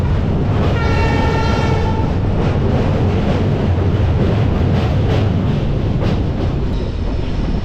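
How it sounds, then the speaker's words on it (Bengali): Dooars Vistadome tourist express train rumbling loudly and steadily as it enters Chalsa railway station, with rolling wheel noise throughout and a brief sustained horn-like tone early on. "আমাদের ট্রেন ঢুকছে চালসা রেলওয়ে স্টেশনে"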